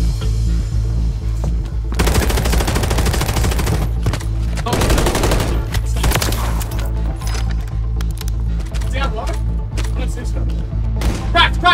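Sustained automatic gunfire from a Call of Duty Modern Warfare 3 match, with dense bursts of rapid shots and loud crackling volleys running almost throughout, while players shout and talk over the shooting.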